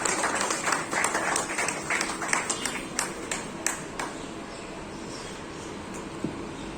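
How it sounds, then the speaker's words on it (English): Steady crowd applause at a school Independence Day celebration for a student honored in yoga, a dense wash of clapping with a few sharper claps standing out, gradually thinning toward the end. "Give her a huge round of applause"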